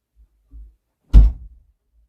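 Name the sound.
door being closed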